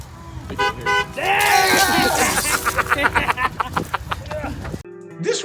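A car horn honks amid a bustling street scene. Short, close toots stand out against loud crowd chatter and laughter, and the sound cuts off near the end.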